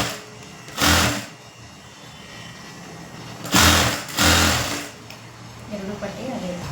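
A sewing machine whirs in three brief bursts while stitching a fabric strip as a neat border line on a garment, each run loud and close against a quieter room background.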